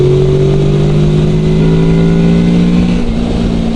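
A car engine held at about 5000 rpm while travelling at 90 km/h drones loudly and steadily, its pitch sagging slightly over a few seconds, with no talk.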